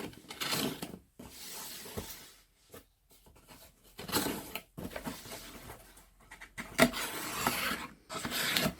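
A knife cuts and slices through the packaging of a gaming tablet box in bursts of close, scratchy rasping, broken by short pauses.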